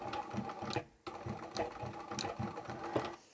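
A sewing machine backstitches the top of a bag pocket, running in steady quick bursts with a brief pause partway through, fairly close and with no voices.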